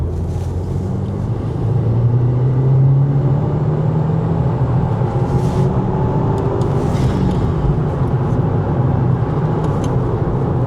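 A Subaru car with an FA24 engine accelerates hard through second and third gear, a loud, steady engine drone with rising pitch that holds throughout under wind noise, with no talking.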